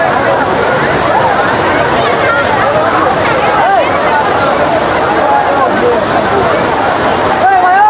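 The Mayabi waterfall at Jaflong rushes in a continuous loud roar, with a busy crowd of visitors chattering and calling out over the falling water.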